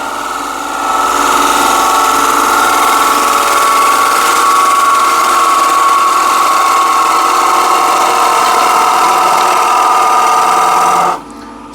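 A tool cuts into a wooden bowl spinning on a lathe, making a loud, steady whine with a scraping texture that runs continuously and then drops off abruptly near the end.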